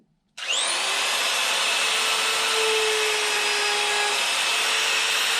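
A rotary tool fitted with a cross cutter bit plunge cuts eye holes into a carved wooden bear, starting abruptly and then holding a loud, steady high-pitched whine and grinding throughout, close by with no talk.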